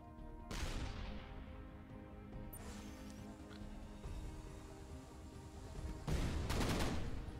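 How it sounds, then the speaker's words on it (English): Explosive weapon fire from the ultimate imploder in the Shellshock Live game, with a sharp loud burst at the start, a sustained rumbling blast, and another heavy explosion near the end. "That's gonna do some damage. Ultimate imploder."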